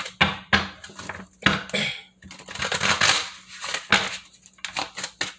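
Tarot cards are shuffled by hand close up, giving quick riffling bursts and soft slaps in irregular clusters with brief pauses between them.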